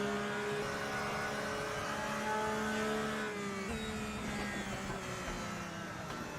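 A race car in a video game at Suzuka accelerates, its engine whine climbing steadily in pitch and then settling. It stays fairly faint and continuous, with no talking.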